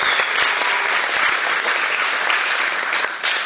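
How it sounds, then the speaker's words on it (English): Loud, dense applause from a large crowd, steady and sustained throughout with no pauses. "so let's give them a round of applause"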